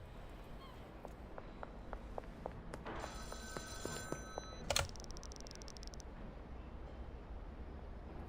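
A payphone rings in a video game, a short burst of electronic ringing over a quiet background, with faint clicking sounds before it.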